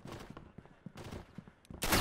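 Gunfire in the World War II shooter game Red Orchestra: Ostfront 41-45 crackles in a rapid cluster of muffled shots, with a loud burst closing out the sequence and no talk over it.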